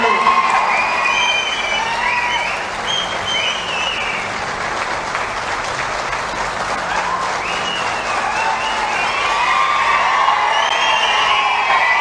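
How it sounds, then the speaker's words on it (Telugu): A political rally crowd claps and cheers loudly and continuously, with whoops and shouts rising over sustained applause. "దయచేసి చప్పట్ల ద్వారా మీ హర్షాన్ని తెలియజేయాలనిగా కోరుతా ఉన్నాను"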